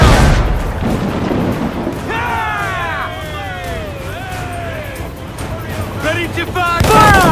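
Ship cannons in Assassin's Creed 4 Black Flag fire during a naval battle, booming low and heavy under shouted voices, while long whistling tones sweep through the middle of the exchange.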